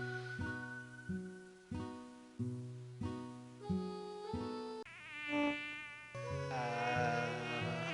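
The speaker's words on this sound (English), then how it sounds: "We can hardly sleep at night with all these mosquitoes buzzing" Mosquitoes buzz in Oregon Trail 2, a synthetic whining drone in repeated pulses whose pitch shifts and rises, growing denser and louder toward the end, with no other sounds.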